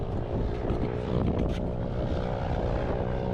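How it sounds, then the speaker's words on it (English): A propeller airplane's engine drones steadily and loudly nearby during aircraft fire-rescue training, a continuous close rumble with no pauses. "That's an airplane."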